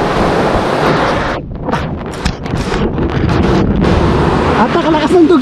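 Strong sea waves surge and crash at a fishing spot during the windy northeast monsoon, a loud, rough roar mixed with heavy wind buffeting on the microphone throughout.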